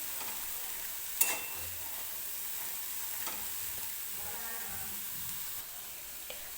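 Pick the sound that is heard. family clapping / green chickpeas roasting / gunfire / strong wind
green chickpeas roasting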